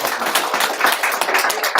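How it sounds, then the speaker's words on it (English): A crowd applauding at a sports league award ceremony, fairly loud with uneven rapid claps from many hands, steady over the short stretch. "So round of applause."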